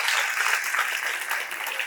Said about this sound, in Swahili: mpigeni makofi mengi